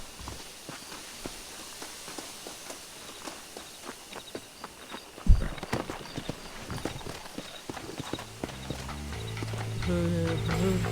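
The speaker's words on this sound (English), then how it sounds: "horses are over here" Horses clip-clop at a walk in the Red Dead Redemption video game, a steady run of hoof strikes that grows louder and busier partway through. Game music rises at the end, and someone talks over it.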